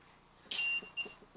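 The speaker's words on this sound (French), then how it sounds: "petit appareil qu'on appelle un détecteur EMF" A handheld EMF detector in a farmhouse during a paranormal investigation gives two short electronic beeps, the first slightly longer, faint and close against a quiet room.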